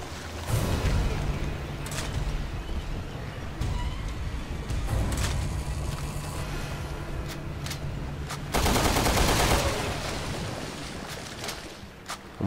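Gunfire in the survival horror game Resident Evil Revelations 2 cracks over a dense, continuous game soundscape, with several sharp shots standing out against rumbling ambience throughout.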